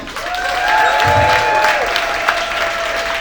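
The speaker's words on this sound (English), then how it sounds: "Start clapping right now for the hilarious Obi Ehn" Comedy club audience in Chicago applauding a stand-up comedian's entrance, a loud, steady roar of clapping with some cheering and a sustained tonal sound running underneath.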